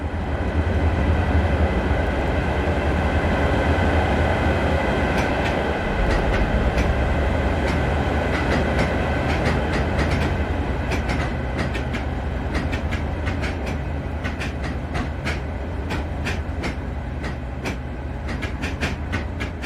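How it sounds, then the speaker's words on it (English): Train simulator scene of class 207 unit 207015 pulling away from the platform toward the motive power depot, a steady loud rumble with rhythmic wheel clicks and clatter building through the clip, no voices. "It is seen here departing the platform for the Motive Power Depot."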